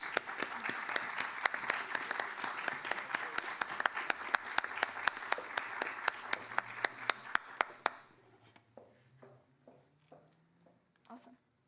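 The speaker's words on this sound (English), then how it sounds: "Please join me in giving them a round of applause for all their work." Banquet audience at the Purdue Grand Prix victory dinner applauding, sharp crisp claps ringing out for about eight seconds before tapering to a few sparse claps, with faint voices beneath.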